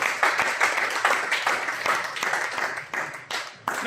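A church congregation claps in steady, dense applause throughout, fairly close and full, with bursts swelling and dipping in waves and a few voices mixed in.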